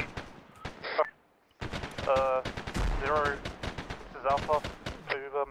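Arma 3 combat gameplay with bursts of rapid automatic gunfire and single shots, moderately loud and crackly, mixed with shouted voices and radio-style chatter.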